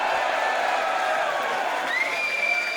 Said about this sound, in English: The crowd delighted with a table being brought into play.